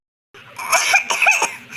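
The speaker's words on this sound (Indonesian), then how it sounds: "kok batuk-batuk?" A child coughing in an animated children's story, a short burst of several close, dry coughs after a brief silence.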